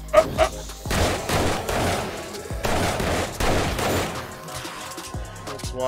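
Rapid bursts of gunfire from the survival video game 7 Days to Die, loud and dense over several seconds, with a few sharper shots at the start and fading at the end.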